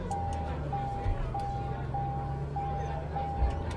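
A light aircraft engine drones low and steady in the Microsoft Flight Simulator 2020 cockpit, while a cockpit warning tone beeps at a regular pace about twice a second over it.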